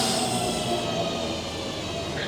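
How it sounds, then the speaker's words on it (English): A Cross City Line train pulls into Chelford station on a freezing day, its steady low rumble and wheel noise filling the platform, with a faint hiss high above and a brief squeal near the end. "our final train's coming in"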